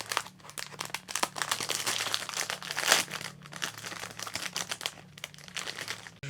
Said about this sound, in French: Je voulais juste vous montrer des petits stickers de velcro.